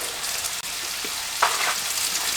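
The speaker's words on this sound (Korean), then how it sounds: "팬에 어, 기름을 넣고 먼저 고기를 볶아주세요" Pork stir-fries in hot oil in a pan, giving a steady, close sizzling hiss with a few faint scraping stir sounds.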